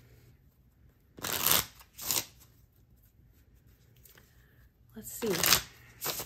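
A deck of playing cards is shuffled in several quick riffling bursts, each a crisp fluttering rush, separated by quiet pauses, with a voice speaking briefly between them.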